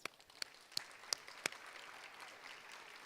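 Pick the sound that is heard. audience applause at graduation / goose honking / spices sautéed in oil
audience applause at graduation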